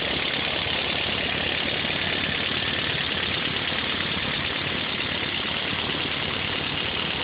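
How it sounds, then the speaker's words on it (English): A carburetor engine idles steadily and evenly on its own, a continuous mid-range rumble with a slight knocking texture, close and constant throughout. "your carburetor sitting here in blue, happily idling away"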